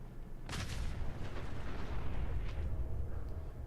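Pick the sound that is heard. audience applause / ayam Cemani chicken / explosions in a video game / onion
explosions in a video game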